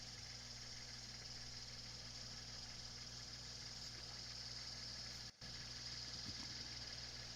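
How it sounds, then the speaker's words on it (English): A car engine idles steadily in the background on a snowy April day, a faint, continuous low hum with a brief dropout near the end, no voices present. "You can hear my car running in the background again."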